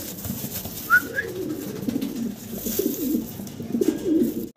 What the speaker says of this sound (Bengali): আরও চমৎকার কিছু ফেন্সি কবুতর আছে